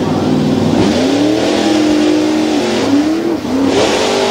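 A modified tuff truck engine revs hard at a race event, a loud, close roar that climbs and sustains, with pitch rising and falling through several throttle swells and a brief dip near the end.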